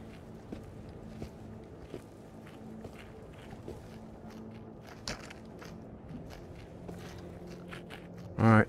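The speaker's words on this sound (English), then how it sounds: "I'm hearing footsteps." Footsteps in the video game Into the Radius: a run of soft, evenly spaced steps heard faintly against a quiet ambient bed, ending in a sudden louder burst.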